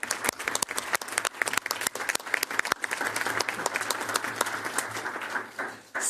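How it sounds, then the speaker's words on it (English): Applause at a school board meeting, a room of people clapping with sharp individual claps standing out over a denser patter, steady for several seconds before fading and breaking off, against a low hum. "can you join me in giving all of them a round of applause?"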